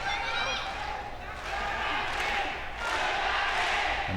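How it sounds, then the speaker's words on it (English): An arena crowd at a Pancrase MMA bout chants for the fighter Funaki, a broad roar rising and falling in waves for several seconds while a commentator talks over it. "And the crowd chanting Funaki's name."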